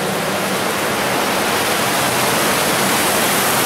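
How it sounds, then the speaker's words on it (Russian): The underground Setun river pours out of a storm collector in a chamber beneath Moscow, a loud, unbroken roar of rushing water that fills the space with no voices over it. "течет река Сетунка"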